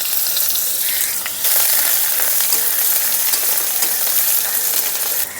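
Garlic paste hits hot oil already crackling with fried black cumin seeds for a kochur loti dish, setting off a loud, steady sizzle and spatter that holds throughout, with a brief stirring scrape.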